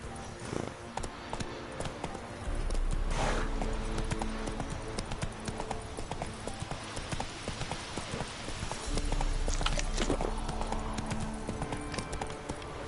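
Hoofbeats of Roach, the horse in The Witcher 3, a rhythmic clip-clop of walking and trotting hooves on a road, with a couple of louder swells of movement and no talk over it.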